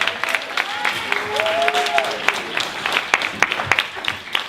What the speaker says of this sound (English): Let's round of applause for these youngsters here.